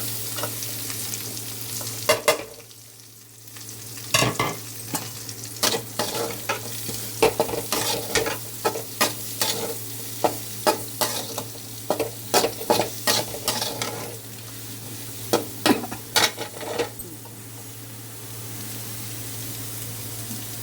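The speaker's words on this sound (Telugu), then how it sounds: "ఫాస్ట్గా వేగుతాయి ఉల్లిపాయలు" Onions fry in a pan under a steady sizzle and a low hum. Clusters of sharp spatula scrapes and knocks against the metal come in quick bursts, with a short quiet gap near the start.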